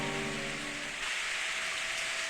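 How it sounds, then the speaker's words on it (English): Steady rain falling on a surface, a dense even hiss with no breaks, fairly loud and close, with a low tonal hum fading out early. "The rain grows stronger over time, eventually becoming a thunderstorm."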